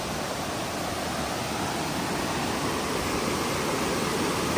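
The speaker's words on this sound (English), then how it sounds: "And here's the waterfall, continuing." A waterfall at a Chiang Dao campground in Thailand roars as a steady, even rush of falling water, close and continuous with no other sounds.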